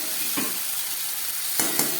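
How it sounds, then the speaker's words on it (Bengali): Fried paneer pieces dropped into hot oil, a constant close sizzle punctuated by a few sharp clinks and scrapes of stirring, with no voices. "এবার আমি এর মধ্যে এই ভেজে রাখা পনিরগুলো দিয়ে"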